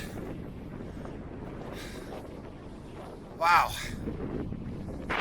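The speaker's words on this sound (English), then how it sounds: "Windy." Steady wind buffets the microphone in a low, rough rush on Glacier Peak amid smoke, with a brief exclamation from a voice partway through.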